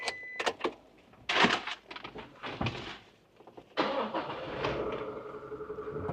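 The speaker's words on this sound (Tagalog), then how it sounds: "Subukan natin i-start yung engine." Toyota Tamaraw GL utility van with automatic transmission, engine cranking and catching, followed by a steady idle hum with an air-conditioner fan whirring, preceded by a few clunks and thumps nearby.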